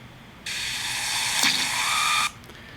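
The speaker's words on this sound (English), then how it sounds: "what you're listening to is bacon frying on a frying pan, not bubbles" A steady sizzling hiss, like bacon frying in a pan, starts abruptly, holds for about two seconds, then cuts off.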